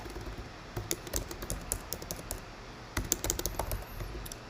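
Keys clacking on a computer keyboard while code is typed, a quick irregular patter of light taps in short bursts with brief pauses, close and fairly quiet, with no voices.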